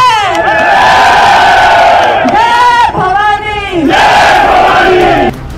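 A huge crowd at a Lok Sabha 2024 election roadshow in Rajasthan roars with loud chanting and cheering, many voices rising together in sustained swelling waves, close and dense.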